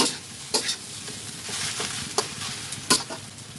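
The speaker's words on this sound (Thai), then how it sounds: "ใครใช้หอมหัวใหญ่ก็ได้เด้อ แล้วก็ผัดเลยค่ะ" Pork fried rice with onion being stir-fried in a pan: a steady sizzle with repeated sharp scrapes and clanks of a spatula against the pan, loud and close, with no talking.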